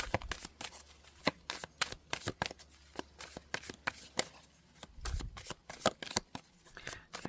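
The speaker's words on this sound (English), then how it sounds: "But let me shuffle here." Rapid riffling and snapping of a deck of cards being shuffled, quiet and close, in repeated bursts.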